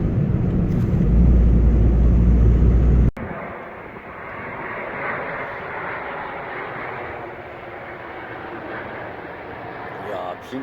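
A loud, low engine roar from an airplane flying close by near an airport terminal, beside a fishing spot, cuts off abruptly after three seconds. Steadier broadband rushing follows while people talk.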